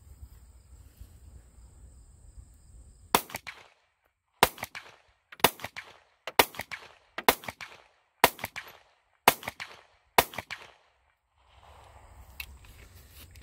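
Seven sharp, loud gunshots from a Taurus GX4XL 9mm pistol at an outdoor range ring out roughly once a second, each a crisp crack, with faint wind and background noise before and after the string.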